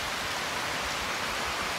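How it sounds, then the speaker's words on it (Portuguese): Steady rain falls during roof construction, a dense, even hiss with no breaks or voices over it. "Dá-lhe chuva!"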